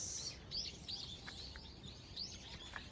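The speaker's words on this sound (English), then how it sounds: "A garden with beautiful birds." Small birds in a garden aviary chirp and tweet in short high repeated calls, faint and somewhat distant over a quiet background.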